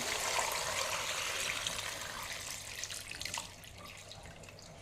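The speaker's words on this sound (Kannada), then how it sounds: "ಬಿಸಿ ಮಾಡಿದ ನೀರು ಕೂಡ ತಣ್ಣಗಾಗಿದೆ ಇದನ್ನು ಈ ಬಾಕ್ಸಲ್ಲಿ ಹಾಕ್ತೇನೆ ಕೈ ಮುಳುಗುವ ತನಕ ಹಾಕಬೇಕು" Cooled, previously boiled water poured into a box, a loud splashing gush at first that gradually tapers into a lighter trickle with scattered drips.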